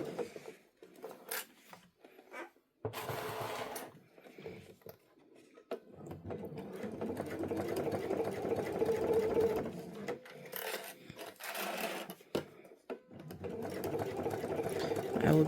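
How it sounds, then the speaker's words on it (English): A sewing machine stitches around a zipper clutch bag in bursts of close mechanical whirring, separated by pauses, with a voice talking in between. "I will be stitching around this bag twice."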